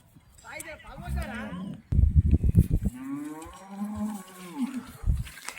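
Black and white HF cross cow, heavily pregnant and close to calving, lowing in several long deep moos close by, mixed with someone talking over it.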